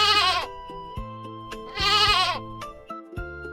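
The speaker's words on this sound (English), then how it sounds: "A goat says, baa," A goat bleats twice, two loud wavering baas roughly a second and a half apart, with background music playing steadily underneath.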